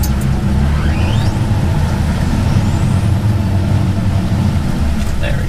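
Boat outboard motors revving under throttle while a boat is driven onto a trailer at a boat ramp, a loud, steady engine roar close by throughout with water and outdoor noise.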